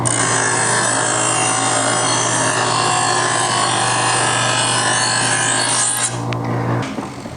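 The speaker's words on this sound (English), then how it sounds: "I'm just going to do one honing per side." A Presto electric knife sharpener hones a Henckels knife, making a loud, steady grinding rasp over a constant motor hum for several seconds before the blade pulls free and the whirr winds down.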